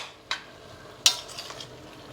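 Tomato and amaranth curry stirred in a pan: two quiet, sharp clinks of a utensil against the pan, spaced under a second apart, with soft scraping and a low simmer between them.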